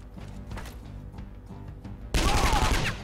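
Gunfire in the turn-based video game Skyshine's Bedlam: a low rumbling game backdrop, then a sudden loud burst of rapid shots and crashing impacts that fills the final second.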